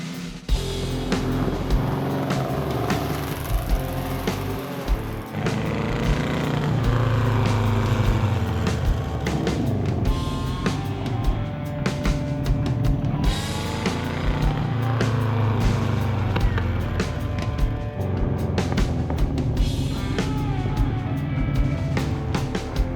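A custom car drives continuously, its engine droning and rising in pitch as it accelerates and shifts, loud and close throughout with no talking.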